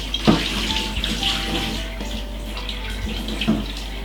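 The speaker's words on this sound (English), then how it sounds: "Pour off the hot water." Hot water poured off a cooking pot in a home kitchen while making Jamaican pigtail stew peas: a steady splashing gush of water running for several seconds at close range, with no talk over it.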